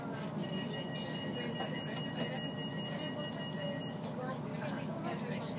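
A train at Thorntonhall station, bound for Glasgow Central, rumbles steadily with a high electrical whine, while an onboard announcement voice speaks over the noise.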